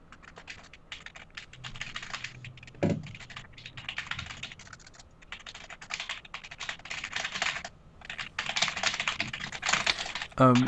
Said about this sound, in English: While Pavani's typing